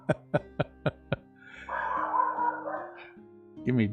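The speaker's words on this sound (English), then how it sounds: "Give me just a second to take care of this dog." A dog in a room barks five times in a quick even series, loud and close, then gives a whining, whimpering sound with a final sharp yelp.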